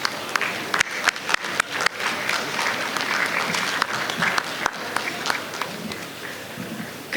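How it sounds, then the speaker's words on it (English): Sustained applause from a large standing audience at an induction ceremony, dense clapping that carries on for several seconds with a few sharper claps popping out near the front. "welcome her with a round of applause"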